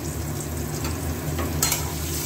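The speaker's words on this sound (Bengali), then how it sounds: "আলুগুলো একটু লাল লাল করে ভেজে নেব।" Potato pieces fry in hot oil for a chicken dish, a short steady sizzle with a low droning hum beneath it and a couple of brief stirring knocks near the end.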